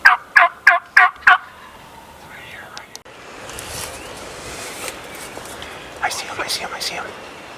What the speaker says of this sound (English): That's a bird gobbling up front.